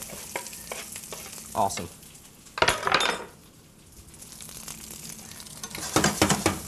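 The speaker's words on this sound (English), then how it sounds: "As you can hear, that's going to sizzle and pop." Meatless meatballs sizzle in a hot frying pan for a home-style Swedish meatball dish, a steady close fry hiss with stirring scrapes and bursts of popping, and a brief spoken word.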